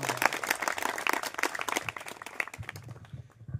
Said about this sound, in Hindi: इसलिए इनके लिए एक बार जोरदार तालियां हो जाए।